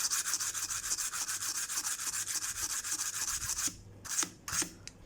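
A small brush works solvent back and forth over a mobile phone screen during a cracked LCD repair, giving close, rhythmic scratchy rubbing strokes that stop and turn into a few brief separate swipes near the end.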